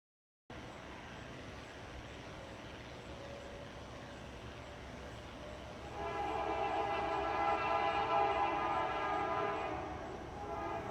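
Trains roll along the Water Level Route in Ohio near the Vermilion River, a steady rail rumble that swells after a few seconds as a horn sounds with layered tones, held loud for several seconds before easing slightly.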